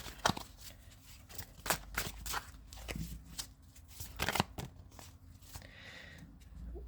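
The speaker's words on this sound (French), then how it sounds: "On repart pour un mélange des cartes" Tarot cards shuffled by hand in quick riffling bursts, close and soft, with irregular papery flicks and pauses between handfuls.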